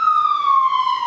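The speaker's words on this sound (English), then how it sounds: "I'm sorry for the sirens, you guys" An emergency vehicle siren drifts in through a large bedroom window: a loud, steady wailing tone that glides slowly downward over about a second and is heard on its own.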